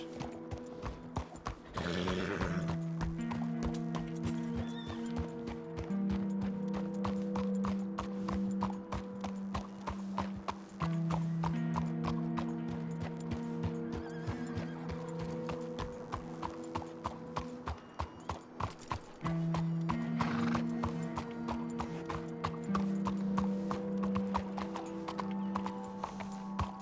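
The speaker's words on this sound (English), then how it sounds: "Yeah, that's Tony's horse" Horse hooves in the WildRP game clip-clop in a steady walking rhythm throughout, with brief whinnies, close and clear with no talk.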